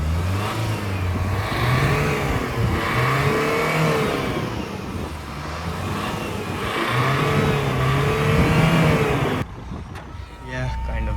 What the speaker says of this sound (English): So now let's hear the engine noise